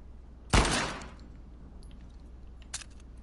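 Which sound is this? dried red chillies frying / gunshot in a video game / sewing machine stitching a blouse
gunshot in a video game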